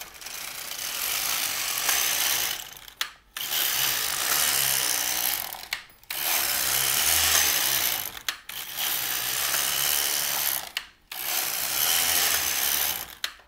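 An LK-150 knitting machine carriage slides back and forth across rows, each pass a loud rattling mechanical whir of about two seconds, separated by brief pauses as it reverses, repeated five or six times.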